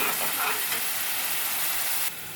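Onion and green chili paste frying in hot oil, a steady dense sizzle held at close range with no voices, dropping slightly quieter near the end.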